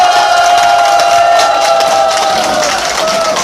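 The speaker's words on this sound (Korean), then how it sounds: "다시 한번 박수로 여러분 힘차게 응원해 주시기 바랍니다" A crowd at a Korean political rally for the Liberty Unification Party cheers and applauds, a dense, loud, continuous wash of clapping and shouting with no speech standing out.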